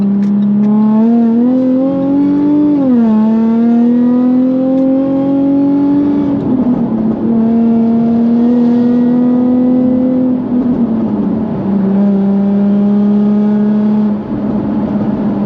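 A Jaguar F-Type convertible (X152) drones loudly from its exhaust above 4,000 RPM, a sustained engine tone that climbs, dips as revs shift, and holds steady on an open road, with no talking.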